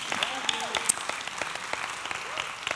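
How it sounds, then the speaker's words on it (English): Congregation applause in a Baptist church sanctuary, a steady wash of many hands clapping with voices murmuring and calling out over it, moderately loud throughout. "you don't have to clap for that"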